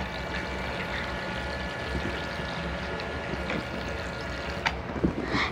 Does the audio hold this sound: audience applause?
no